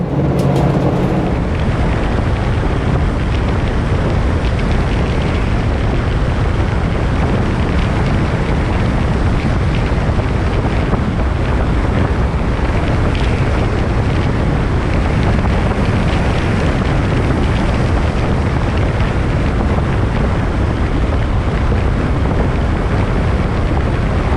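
A vehicle on an Easter Sunday drive over muddy backroads near a ranch valley makes a constant loud rumble, with wind roaring and buffeting the microphone throughout and no talking.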